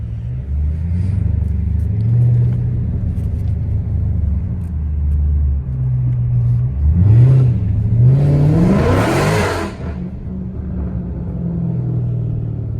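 A tuned Dodge SRT 392 V8 idles with a deep rumble, then is revved hard, rising to a loud roaring peak before dropping back to a throbbing idle, heard up close.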